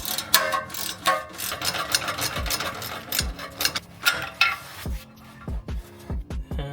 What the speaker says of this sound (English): get my ratcheting wrench in place and use this guy to hopefully break it off